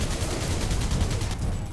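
Rapid bursts of automatic gunfire rattle continuously in the video game Alien Breed: Assault, dense and loud for under two seconds before easing slightly at the end.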